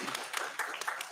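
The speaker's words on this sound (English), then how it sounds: "Round of applause, of course." Light audience applause at a talk on India's technology strategy, a short burst of scattered clapping that sounds thin and somewhat distant throughout.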